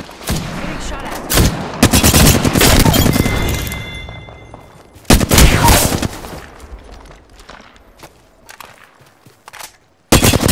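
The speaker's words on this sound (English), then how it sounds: "Getting shot at." Loud bursts of automatic gunfire in Apex Legends, rapid volleys broken by short gaps and footsteps, with a final burst cutting in at the end.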